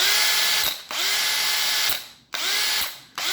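A brushed electric drill running at high speed whines loudly and closely in three bursts, each spinning down briefly before revving back up.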